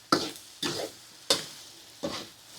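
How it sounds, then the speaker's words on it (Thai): Sugar cooking down in a pot as the base for Thai braised pork leg gives four separate sizzling stirring strokes, roughly evenly spaced, with quiet gaps between them. "เคี่ยวน้ำตาลทรายลงในนี้ค่ะ"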